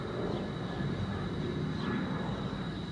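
A Southwest Airlines jet departs Midway airport on a hot sunny day, a steady broad engine roar heard from a distance without a break.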